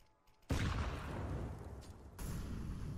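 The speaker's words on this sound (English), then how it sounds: "I think that nade met its mark." A grenade blast in Counter-Strike: Global Offensive during a G2 versus NIP match at IEM Beijing, a sudden loud boom after near silence followed by a sustained rumbling roar with no talk.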